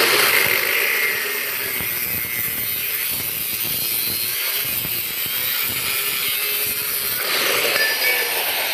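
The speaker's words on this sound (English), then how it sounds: "I'm going to cut it just a little bit high because I'm going to grind it flat if needed." Metal bicycle seat post being cut off slightly above the final height, a steady continuous rasping saw stroke that runs close and loud with no talking.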